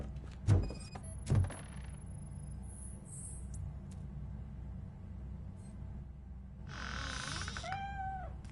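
A cat in the video game RoboCop: Rogue City lets out a couple of rising meows near the end, heard after a pair of sharp thumps and a quiet ambient stretch.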